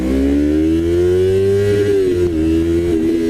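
A 2019 Yamaha R3 motorcycle engine revs up in first gear, its pitch climbing steadily, then dipping and shifting, loud and close with no speech.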